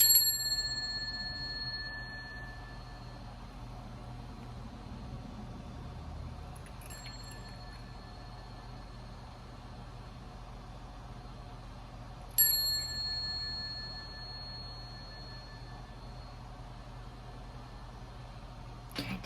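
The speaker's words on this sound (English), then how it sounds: "I'm going to ring what you know as my favorite bell." Favourite handbell struck three times with long clear ringing decays, each ding shimmering out slowly over a quiet background.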